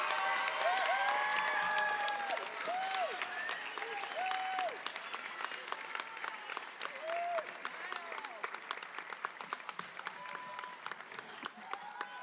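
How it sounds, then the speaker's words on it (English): An audience at an eighth grade award ceremony applauds in a steady, dense wash of clapping, with a few voices chatting and calling out faintly beneath it throughout. "All right, let's give them a round of applause,"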